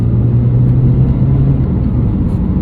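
A modified diesel Mini pulls hard in second gear from about 2,000 to 4,000 RPM, its loud, steady engine rumble and drone close and continuous with no talk over it.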